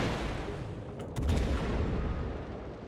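Naval guns from a Cossack destroyer firing in the World of Warships video game, producing a dense, continuous rumble of booming shots with a stronger burst around the middle, with no talk.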